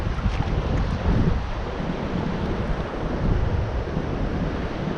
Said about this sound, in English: A good breeze, too.